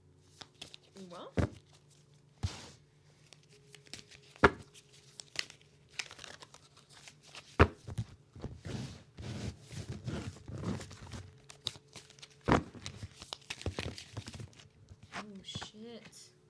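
Tarot cards being shuffled and handled, irregular crisp riffles and slaps, with quiet speech in between.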